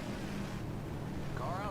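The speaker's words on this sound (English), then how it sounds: "Just a roar of the car instead of just a little bit of a high pitch type roar" A 1964 stock car in the NR2003 racing game gives a deep, steady, rumbling engine roar, a continuous low drone with a brief higher whine rising near the end.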